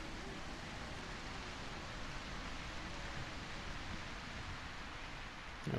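Steady rain in the video game A Quiet Place: The Road Ahead, a dense, even hiss that carries at constant loudness through the whole stretch with no talk over it.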